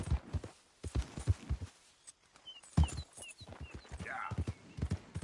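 Horse hooves clip-clop in a video game during a legendary bear hunt, walking in an irregular rhythm close by, while someone talks over them and a brief whinny rises near the end.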